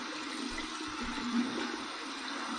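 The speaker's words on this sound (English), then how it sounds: "So here's my warm water rinse right here." Warm water running for a rinse after shaving, a steady, moderately close hiss and gurgle of flowing tap water with slight fluctuations and no talking.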